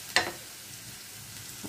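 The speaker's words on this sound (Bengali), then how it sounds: "অবশ্যই পেস্টটা আর রসুনটা একদম লাল লাল করে ভাজা নেব," Onion paste and garlic frying in oil until browned, a low steady sizzle with one sharp crackle burst near the start and a faint stir at the end.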